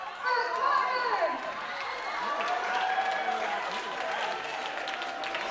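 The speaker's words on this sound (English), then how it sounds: "round of applause for Carter!" A theatre audience at a seasonal reading performance applauds for Carter, a steady wash of clapping and crowd noise at moderate distance that continues throughout.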